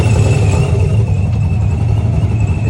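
A loud, close supercharged drift car engine idles in the pits with a steady deep rumble and a constant supercharger whine riding on top, with no talking.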